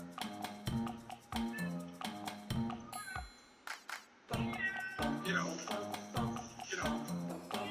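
A cat meows in a neighborhood, several short cries spaced through the clip amid bright metallic pings and clinks, with a brief quiet gap in the middle.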